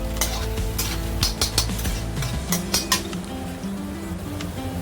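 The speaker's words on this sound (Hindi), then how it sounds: "अच्छे से इसको सॉटे कीजिए आप, हल्का हल्का गुलाबी होने तक" Ginger-garlic and tomato puree masala sautéing in a pan for spicy Punjabi-style ridge gourd curry, with steady sizzling, scraping stirs and clinks of a spoon against the pan, close and fairly loud.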